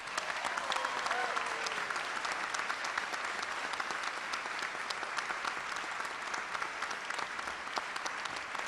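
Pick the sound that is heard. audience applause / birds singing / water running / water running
audience applause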